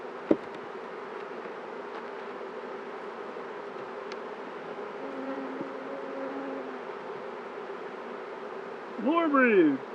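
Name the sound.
honey bees buzzing during a beehive inspection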